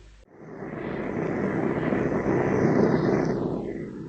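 Steady broadband drone of an aircraft engine in a 1951 spy radio drama, a plane flying from Singapore toward Sydney, swelling in after a brief quiet start and holding loud and continuous throughout.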